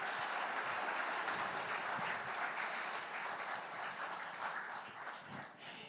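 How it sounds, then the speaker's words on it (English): An audience applauds three women in STEM, a dense, sustained clapping that fills the room and tapers off slightly at the end. "a round of applause for them."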